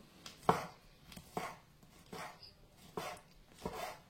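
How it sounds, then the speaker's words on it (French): A knife chops through pork head meat on a board in a series of about five sharp, evenly spaced cuts, fairly close and moderately loud, with no talking. "Là, maintenant, il faut couper un peu."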